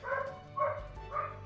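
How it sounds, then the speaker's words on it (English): Dogs left in a farm barn barking, three short yappy barks spaced roughly half a second apart, moderately near and fairly faint, with no voices. "these poor dogs here, they're just left outside. Well, they're in the barn"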